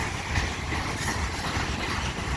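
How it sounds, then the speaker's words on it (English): Orange CN freight ballast cars roll past at a rail crossing, giving a continuous broad rumble and rushing wheel noise, steady and close, with no voices. "Orange CN ballast cars."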